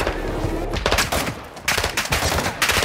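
Rapid automatic gunfire rattles in dense bursts with a short lull in the middle, loud and close, in a Call of Duty Warzone firefight.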